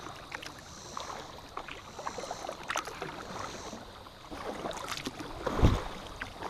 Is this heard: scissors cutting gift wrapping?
no